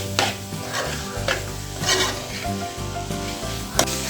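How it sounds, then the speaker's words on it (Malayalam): A spoon stirs chicken biryani masala as it fries in a pan, giving scraping strokes over a steady sizzle, with no voices. "നന്നായിട്ട് നമുക്കൊന്ന് ഇളക്കിയെടുക്കാം."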